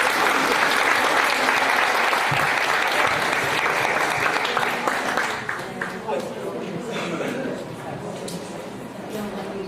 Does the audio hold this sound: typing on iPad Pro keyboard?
no